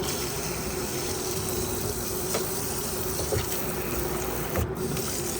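Steady rush of water running from an outdoor faucet after a plumbing repair, a continuous even hiss with a few faint knocks and clicks along the way.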